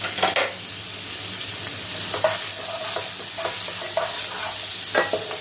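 Sliced onions and green chilies fry in a hot pan, a steady sizzle running throughout with several scrapes and stirring clacks of a spoon against the metal, fairly close, and no talking.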